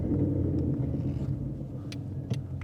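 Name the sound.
Ford Mustang RTR engine accelerating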